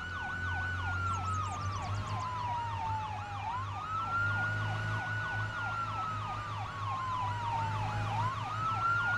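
Police sirens wail during a car chase in a video game. Several overlapping sirens rise and fall continuously over a low engine drone, loud and unbroken throughout.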